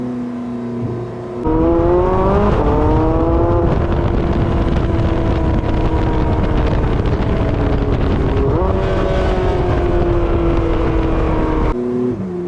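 A Porsche 918 Spyder hypercar engine roars loudly, revving up and down through several gear changes with rising and falling pitch, close and sustained.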